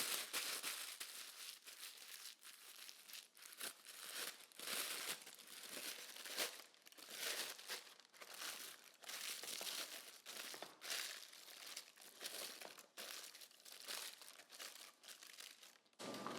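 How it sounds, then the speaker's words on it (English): A sheet of parchment paper is crumpled by hand to line a baking dish, giving a steady, close, dry crinkling that keeps on for the whole stretch with short pauses and no talk. "I'm gonna crinkle up this piece of parchment paper"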